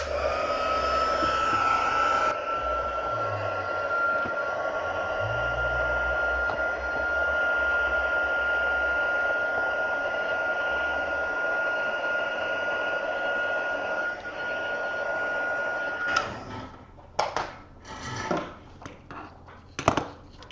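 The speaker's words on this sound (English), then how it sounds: "now I'm going to go get my heat gun, and we'll make that be set in place" A heat gun blows with a loud, steady whining hum for about sixteen seconds, setting puff paint on a card, then cuts off, followed by a few scattered clunks and handling noises.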